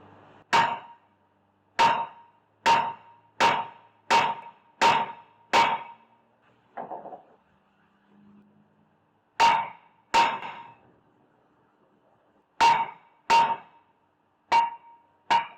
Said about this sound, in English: No job is complete without the hammer.